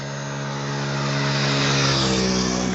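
A car approaches along a six-lane highway, its steady engine and tyre roar building gradually and staying loud and close across the few seconds, with no talk over it.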